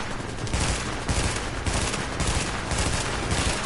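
Enemy gunfire in The Division, a steady barrage of overlapping shots with repeated bursts roughly every half second, loud and dense with no talking.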